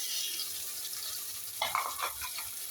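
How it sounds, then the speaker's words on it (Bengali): Ginger, garlic and onion paste being stirred in a hot pan for a chicken and potato curry, a steady soft sizzle with a few scraping stirs near the end. "এটা আদা রসুন পেঁয়াজ একসাথে করে আমি এটা মিক্স করে নিচ্ছি"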